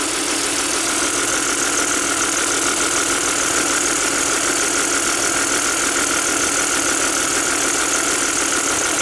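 An Audi A6 wagon engine idles with an ignition coil misfire, a steady, close mechanical hum and hiss with an even, slightly rough pulse throughout.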